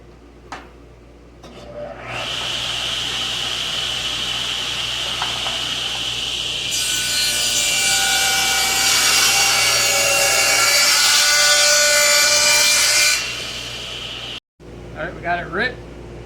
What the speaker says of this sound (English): back over to the table saw and we'll do a 2-inch rip on this piece